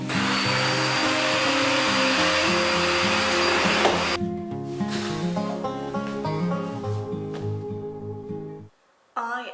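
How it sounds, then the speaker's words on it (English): A household vacuum cleaner roars continuously at close range while cleaning a home, its motor hum shifting in pitch as it moves, then switching off near the end. "Okay, so I just vacuumed the whole place."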